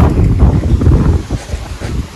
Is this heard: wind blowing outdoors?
yes